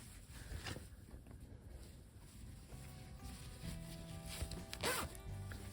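A zipper sewn into a fabric pillow is drawn along in short scratchy pulls, close and fairly faint over a hum of room noise and handling sounds.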